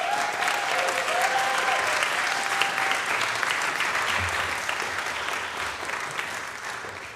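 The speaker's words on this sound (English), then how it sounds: "We'll clap at you." A congregation at a Unitarian Universalist Sunday service claps steadily together, a dense, even roar of many hands with a faint whistle near the start, continuing without talk.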